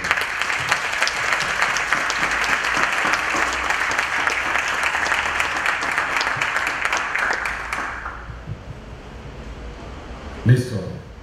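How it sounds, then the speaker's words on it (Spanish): Audience applause at a social entrepreneurship forum, steady dense clapping from a crowd for about eight seconds, then fading out, followed by a brief bump of noise near the end. "Un aplauso."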